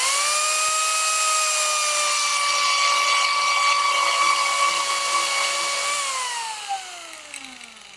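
Arbortech TURBOShaft power carving tool cutting wood, a loud steady high-pitched whine for about six seconds that then drops in pitch and winds down as it spins slower.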